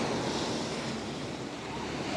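Sea waves washing onto a beach in Pattaya, heard as a steady, broad rush of surf mixed with wind buffeting the microphone, with no speech.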